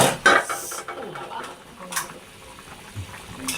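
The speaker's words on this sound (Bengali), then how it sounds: "নাড়াচাড়া করে দিই" Beef lung bhuna stirred in a cooking pot, with a few scraping and clinking strokes of a utensil against the metal over a soft background sizzle, close and moderately loud.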